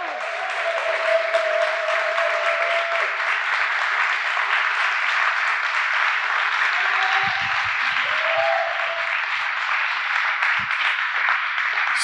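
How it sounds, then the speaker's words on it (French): Steady, dense applause from an audience at a startup demo day fills the whole stretch without letup, with a few faint voices and thumps underneath. "Je crois que c'est le moment de leur faire une ovation, donc vous pouvez les applaudir."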